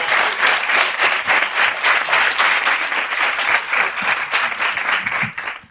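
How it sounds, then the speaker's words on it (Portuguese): Audience applause closes a panel session at an IBM School event, a dense, steady wash of many hands clapping that carries on loudly for several seconds before tapering slightly at the end. "Aplausos!"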